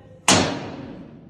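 A trash compactor door swings open with one sharp, loud bang, then a short ringing decay fades into quiet.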